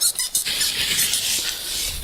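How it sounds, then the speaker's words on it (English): A paramotor drive belt slipping off gives a loud, harsh, high squeal with a few quick stutters at the start, then a sustained screeching hiss over two seconds. "No, that was a belt coming off."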